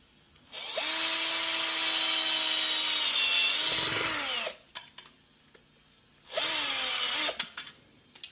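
Power drill driving a screw into a wall plug, a loud close whine running steadily for about four seconds, then short clicks and a second brief run, with no voices.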